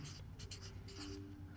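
A pen scratching softly across a surface as a chemistry redox equation is written out by hand, with faint, continuous strokes and no talking.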